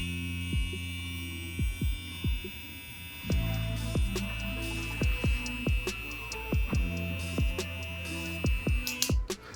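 A JRL Lamborghini Diamante hair clipper with a fade blade running at 8,200 RPM gives a thin, steady motor whine, broken by regular soft ticks and taps throughout.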